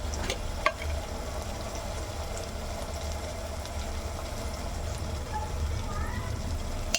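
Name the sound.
stirring chilli and coriander powder into vegetable pulao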